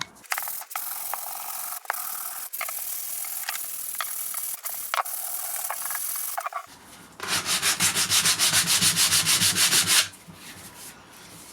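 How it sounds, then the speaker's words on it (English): Sandpaper rubs briskly against a wooden scythe handle in repeated strokes, first irregular scrapes, then a rapid rhythmic back-and-forth run of rasping passes, close and loud. "I'm going to get some sandpaper and give that a bit of a a rub down as well"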